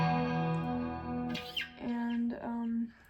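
An electric guitar playing a song sustains a distorted note, then brief scraping, squeaky transition noises break in as chords change, between held tones, close and solo without talk.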